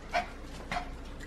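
A dog whimpers in short high whines, two distinct cries about half a second apart, fairly faint over a low background hum.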